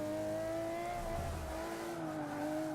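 Aston Martin One-77 racing at Road America in a video game, its engine whining steadily through the final corners, with a faint tire scrub in the middle of the clip.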